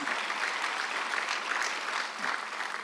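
A church congregation claps during a Sunday worship service, a dense, steady wash of applause from many hands throughout, with no clear voices on top.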